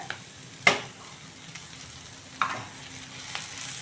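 Drumstick leaves with papadam fry in a hot pan, a soft steady sizzle broken by a few sharp scrapes as they are stirred.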